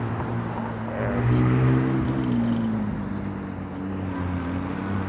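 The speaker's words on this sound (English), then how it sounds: "that's a McLaren that just rolled past" A McLaren sports car rolls past on a downtown city street, its engine hum rising and falling over a few seconds amid steady urban background noise.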